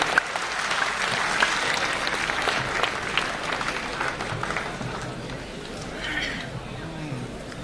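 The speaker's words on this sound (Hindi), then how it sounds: "मैं चाहता हूं जोरदार तालियों के साथ आप उनका स्वागत करें।" A mushaira audience gives steady, dense applause to welcome a poet to the stage, the clapping sustained throughout with faint crowd murmur beneath.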